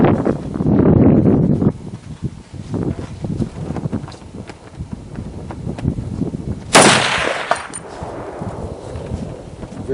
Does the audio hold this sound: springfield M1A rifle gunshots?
yes